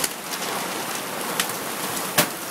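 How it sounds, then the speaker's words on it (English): Light hail patters steadily, with a couple of sharper ticks standing out from the hiss. "It's now hailing a little bit."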